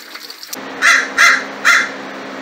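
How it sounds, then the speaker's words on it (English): A crow caws three times at a steady interval, loud and close, each call a harsh rasp, after a brief stretch of faint background noise. "my wife's bird, the crow, had to say his word"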